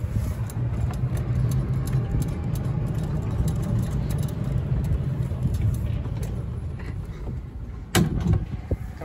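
An Oxford White Western Elegante 4-passenger golf cart with white wall tires drives along, a steady low rumbling hum close by, with a sharp knock near the end.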